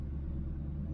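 A 2000 Ford Mustang Cobra R with its V8 idles in a deep, steady low rumble, close and continuous with no talking.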